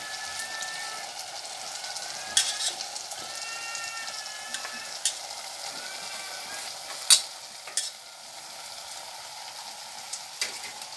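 Soya chunks are stirred and fried with tomatoes in a pan, giving a steady sizzle broken by occasional sharp scrapes and clinks of the spatula, close and fairly quiet.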